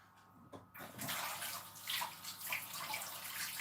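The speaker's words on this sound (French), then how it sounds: "Je me rince les mains et je reviens." Tap water runs steadily while hands are rinsed under it in a kitchen, starting after a brief bit of handling, close and moderately quiet, with a splashy hiss throughout.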